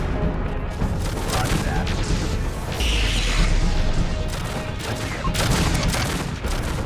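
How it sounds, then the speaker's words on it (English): Mech weapons fire in the MechCommander 2 strategy game, with loud, dense volleys of gunfire and crashing impacts that continue throughout, and a short radio-style voice line partway through. "Man, this variety of firepower looks so cool"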